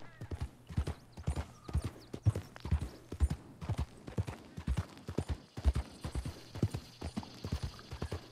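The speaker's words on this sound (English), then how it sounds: "just the slowed down riding of the horse" Slow, steady hoofbeats of a horse ridden at an easy walk in the video game Red Dead Online, a regular clopping rhythm that stays close and clear with no voices over it.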